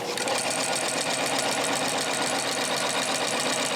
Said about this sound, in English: So let's say I did my first line of stitching